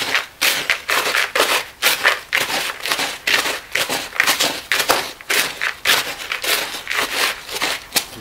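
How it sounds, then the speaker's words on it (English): Dry Portland cement and pumice being mixed with a stick, giving a steady run of gritty crunching and scraping strokes in a regular rhythm, close and fairly loud, with no talk. "Mix your dry ingredients in first. 2 cups standard Portland cement. 10 cups of pumice."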